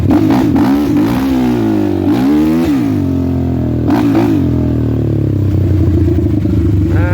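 A Suzuki LTR450 ATV engine revving hard on a ride through boggy ground, with repeated loud throttle blips rising and falling in pitch, close up and alone without speech.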